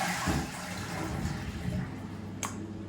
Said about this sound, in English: So that's number 1 flush